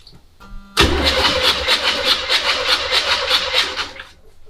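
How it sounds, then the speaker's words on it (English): A 1979 Chevy C10 with a 454 big block V8 is cranked over for a compression test. The starter spins the engine for about three seconds with a loud, rhythmic, chugging pulse, then stops abruptly. "I'm gonna spin it over and we'll see what kind of compression we got."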